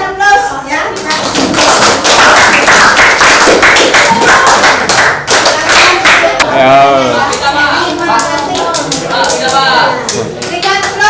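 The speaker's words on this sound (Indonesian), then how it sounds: "Berikan aplaus untuk kelompok ini" A classroom of children applauds a student group, steady loud clapping continuing for several seconds alongside children's voices and chatter.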